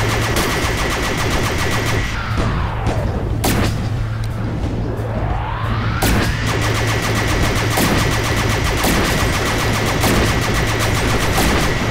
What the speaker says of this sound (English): This gun is so weak, but it's easier to aim with.